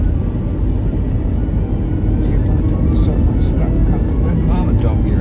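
Audi A4 cruising in top gear on the road near Loch Ness, a steady low engine and road rumble heard from inside the cabin, continuous and fairly loud, with people talking over it.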